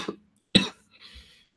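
A boy gives a short cough, then a sharper, louder cough, followed by a fainter rasping exhale, all close and isolated against silence.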